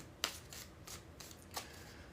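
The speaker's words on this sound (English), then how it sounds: "We're going to shuffle these cards back into the deck." Tarot cards being shuffled back into the deck, a few quick soft riffles and slaps in short bursts, close and quiet.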